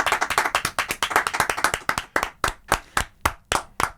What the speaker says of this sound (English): Let's just keep it going. Just an hour of clapping.